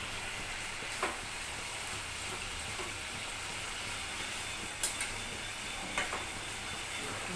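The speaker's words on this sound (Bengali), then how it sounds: "দু পিসটা যাতে মোটামুটি ভালোভাবে ভাজা হয়। কড়া ভাজা অবশ্যই নয়, হালকা করে ভাজা।" Pieces of fish fry lightly in a pan over a gas flame with whole green chillies, giving a steady, soft sizzle with a few faint clicks and knocks and no talking.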